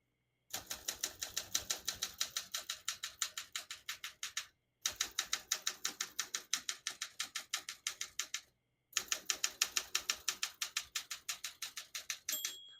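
Keys striking on a 1969 Olympia SM9 vintage portable typewriter, three bursts of rapid, even clacking separated by short pauses, close and crisp with no talking.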